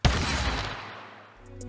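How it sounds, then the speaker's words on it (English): Goal explosion effect from the game Rocket League Sideswipe: one loud booming blast that decays over about a second, followed by a faint tonal chime. "then you also get this awesome explosion sound effect to go with it"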